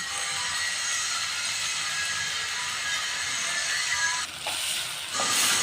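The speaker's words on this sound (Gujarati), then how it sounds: "હવે આને બેથી ત્રણ મિનિટ સુધી આપણે શેકાવા દઈશું" Chopped tomatoes and onions with half a spoon of salt sizzle steadily in a pan, a bright continuous frying hiss with a short stir near the end, no talking.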